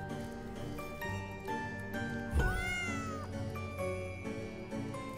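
Kittens meow repeatedly in The Baby in Yellow video game, high plaintive cries layered over soft game music, with one louder drawn-out wail in the middle.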